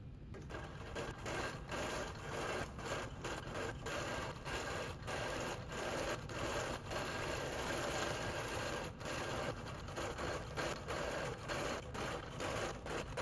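A computerized longarm quilting machine stitches a quilt border in a steady rapid rhythm, needle strokes pulsing evenly and close, quiet overall with no talking.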